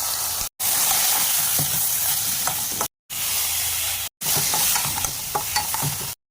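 Cumin, bay leaf and spices tempered in hot oil, after eggplant has been fried, for a spicy pabda fish curry; a loud, continuous close sizzle with stirring clicks, cut by short gaps of silence.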